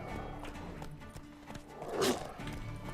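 A horse snorts and whinnies amid steady game ambience in The Witcher 3: Wild Hunt at sundown, with soft hoof-like thuds spread through the background.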